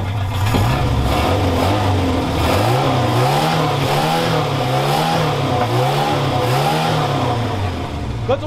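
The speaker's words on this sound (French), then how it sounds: "Quand on accélère, ça tourne plutôt rond" A Renault 4L engine fitted with two original carburetors revs loud and close, its pitch rising and falling in a run of repeated throttle blips over a steady mechanical drone, with no talking.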